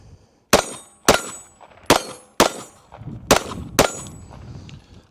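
Six sharp pistol shots from a SAR9 SOCOM with a Strike Industries compensator firing Remington UMC rounds, loud and close, spaced unevenly over about four seconds with brief echoes after each.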